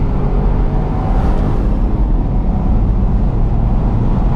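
A Smart ForTwo (451) car drives along an open road, heard from inside as a loud, steady engine and road rumble with heavy wind noise and no talking.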